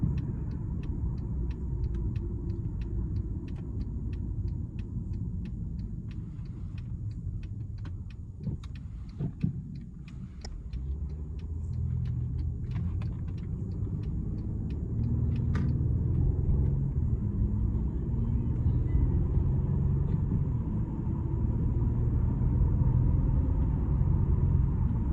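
A Mercedes W212 with 4MATIC all-wheel drive cruises at night, giving a steady low cabin rumble of engine and road noise with scattered faint ticks and clicks.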